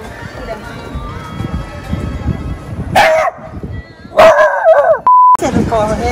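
Stray dogs at a shelter that collects donations bark in short bursts, fairly near, amid a busy background with people talking nearby.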